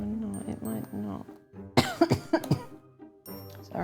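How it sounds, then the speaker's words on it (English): Someone talking breaks into a loud cluster of about five harsh coughs close to the microphone, then resumes speaking. "Sorry, coughing."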